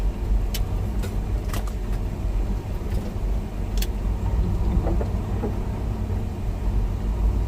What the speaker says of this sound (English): like this truck is doing, come flying up